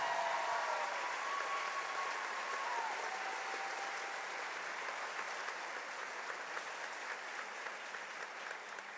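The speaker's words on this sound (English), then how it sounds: "Now let's give them a big round of applause." At an elementary school fourth grade choral festival, the audience gives the choir directors a long, even round of applause, a soft distant wash of many hands clapping that tapers gently over nine seconds.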